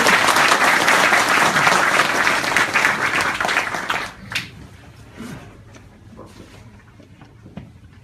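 Audience in a packed auditorium at a Gwangju–Jeonnam union election rally applauds loudly and steadily, then the clapping fades to a few scattered claps.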